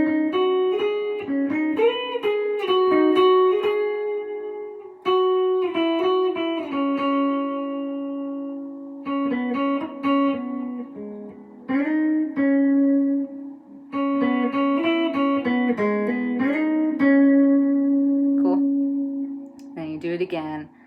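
A single clean guitar picks out the melody of a song with sliding, sustained notes and brief pauses between phrases, close and moderately loud.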